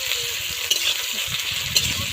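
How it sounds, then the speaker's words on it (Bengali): Ginger paste sizzles in a hot pan for a Bengali-style fish curry and is stirred, giving a steady frying hiss with two sharp scrapes of the spoon against the pan. "আদা বাটা দিয়েছি। ভালো করে নাড়াচাড়া করে নিচ্ছি।"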